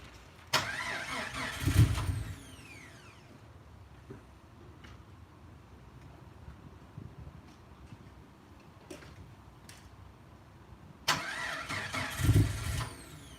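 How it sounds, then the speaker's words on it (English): A rebuilt 4.0 engine cranks twice on its first start attempt, each burst of starter whirring lasting about a second or two and separated by a long quiet stretch with faint ticks and clicks, close by, without catching. "You just want to try cranking it?"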